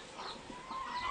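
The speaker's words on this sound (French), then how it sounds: "on a vu les poules qui sont en train de pondre des œufs" Hens clucking inside a poultry farm coop kept for egg laying, with soft, scattered clucks over a steady murmur of the flock.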